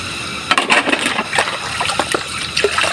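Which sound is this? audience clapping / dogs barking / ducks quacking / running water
running water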